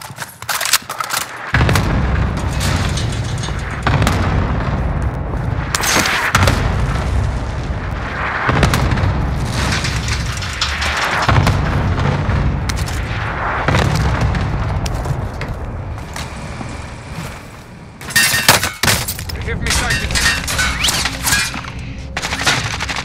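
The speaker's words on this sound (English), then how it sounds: "Allied cluster strike inbound." Cluster strike explosions tear through a Call of Duty: Warzone match: loud, repeated booming blasts rolling in waves, mixed with bursts of gunfire and sharp cracks for about twenty seconds, with no voices.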